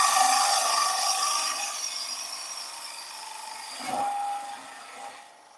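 A woodturning tool shears a wooden goblet spinning on a lathe, giving a steady, close, raspy scraping hiss that tapers slightly, swells briefly with a tonal squeal, then fades away.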